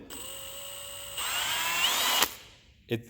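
A small cordless power drill whirs steadily, then its motor pitch rises as it speeds up before cutting off, followed by a brief clunk.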